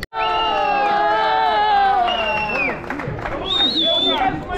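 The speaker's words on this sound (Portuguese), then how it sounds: "E em primeiro lugar, Pedro Martins, uma salva de palmas também para ele." A crowd cheering for the winner of a Masters category race, with loud overlapping shouts and whoops and some applause mixed into the cheering.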